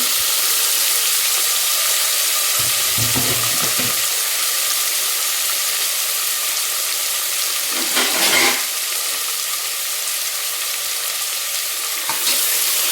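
Onions and tomatoes frying in a pan, a steady close sizzle running throughout, with a few brief stirring scrapes and clatters breaking in at intervals.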